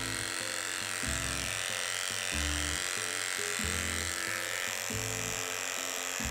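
An electric hair clipper trims a miniature schnauzer's coat, a steady close motor whine with its pitch and load shifting in short stretches as the blades move through the fur.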